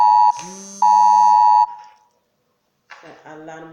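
An electronic alarm sounds in loud, harsh buzzing tones: two long blasts with a short break between them, then silence, then a quieter, wavering tone near the end.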